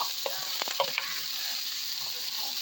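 Vegetables with garlic sizzle steadily in a hot pan while being stirred, a continuous frying hiss with a few clinks and scrapes of the utensil, close and alone.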